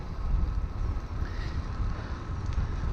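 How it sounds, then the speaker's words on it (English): Steady, loud wind buffeting the microphone while riding through cool countryside in Northumberland, a continuous low rumble with no pauses and no speech. "wind ahead of me, beautiful countryside over to my right. I'll tell you what, this wind is rather cool"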